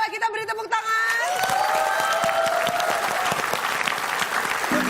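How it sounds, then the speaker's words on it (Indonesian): A studio audience on a Lunar New Year quiz show breaks into loud, full applause with some cheering, coming in after a brief musical sting and carrying on steadily to the end. "Selamat sekali lagi, boleh kita beri tepuk tangan."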